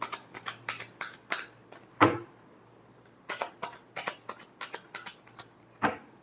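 Tarot cards being shuffled in repeated quick riffling bursts, crisp and close, with a louder snap near the middle and brief pauses between passes.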